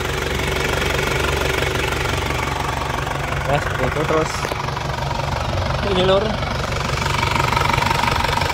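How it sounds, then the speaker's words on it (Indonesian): A 2000 Isuzu Panther New Hi Grade diesel engine idles with a loud, steady, knocking clatter, heard up close while someone talks over it. "Mesinnya sehat lur. Suaranya juga renyah,"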